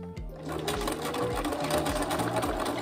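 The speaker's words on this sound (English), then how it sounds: "I use a seam ripper, actually, to hold it in place as I sew over it." Sewing machine stitching lace-up loops onto a wedding gown, running steadily and close with a fast rhythmic mechanical chatter and thump that barely pauses through the short stretch.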